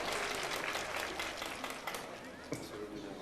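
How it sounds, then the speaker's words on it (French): A crowd applauds with a dense wash of clapping throughout, while a voice talks over it. "parce que Naïda, vous ne l'avez pas vraiment applaudi très fort"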